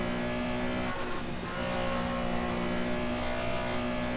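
A historic Porsche 911 in Assetto Corsa holds a steady, loud engine drone at high revs under racing load, with a brief dip as it shifts or lifts, and no talking.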